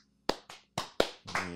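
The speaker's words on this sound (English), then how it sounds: "everybody clap your hands one time" A small group of people on a podcast clap their hands, five sharp separate claps in quick uneven succession rather than one together, heard alone and close.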